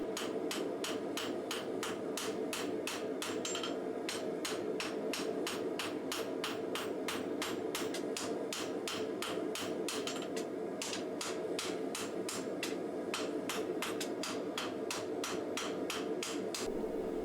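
A hammer strikes a hot steel katana sunobe as its blade end is tapered, a rapid, unbroken series of sharp ringing blows several times a second over a constant loud hum, close by and with no speech.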